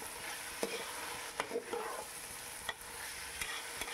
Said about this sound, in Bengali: দেখুন খুব সুন্দর করে নাড়িয়ে চাড়িয়ে নিচ্ছি।